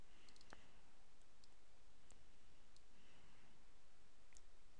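Sharp computer mouse right-clicks, a few brief isolated clicks scattered over a steady background hiss, with no talking.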